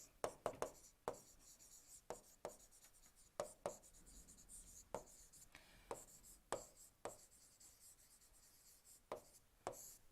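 Irregular bursts of scratchy strokes come from writing on a board during a lecture on alternative fuels, with the strokes quick and close and separated by short pauses.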